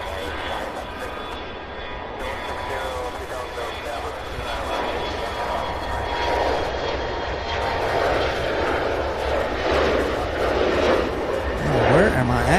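An airplane flies near Cincinnati's CVG airport, its steady engine roar filling the scene throughout, with a faint voice speaking over it.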